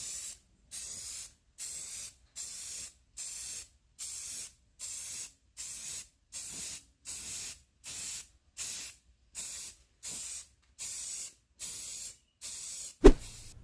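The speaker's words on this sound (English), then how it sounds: "For our paint, I'm just going to give this a layer of Rust-Oleum Ultra Matte in the sand dollar." Rust-Oleum Ultra Matte spray paint in sand dollar being sprayed: about fourteen short, evenly spaced hissing bursts close to the mic, each separated by brief silence, ending with a sharp knock.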